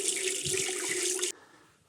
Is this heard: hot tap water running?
yes